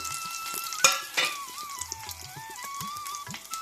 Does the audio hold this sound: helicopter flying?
no